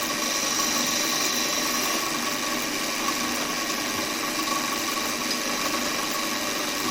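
Wood lathe spinning steadily while a tenon is cut into a turned lid: a constant motor hum and whir with a faint scraping texture, close and even throughout, no speech.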